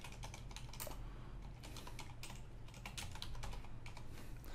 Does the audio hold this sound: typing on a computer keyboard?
yes